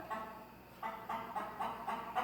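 Chickens cluck in a rhythmic run of short, repeated calls, close and moderately loud, with a steady low hum beneath and no talking.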